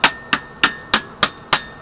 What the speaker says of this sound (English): I'm going to put the veins down in the mold, and I'm going to hammer from the back.